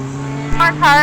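Single-seater race cars, including a Mazda and a Formula Ford, roar along a circuit in a brief burst of engine noise, with a steady drone and a car rushing past near the end.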